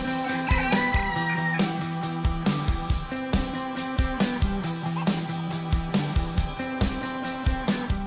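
Chickens cluck and call continuously, with garden birds chirping among them in a lively outdoor chorus in a garden in Loire-Atlantique, France.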